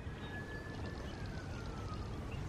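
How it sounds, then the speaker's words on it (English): A siren wails at a distance during a house fire, one faint rising and falling tone drifting over steady low rumble and background noise. "Do you guys hear the siren?"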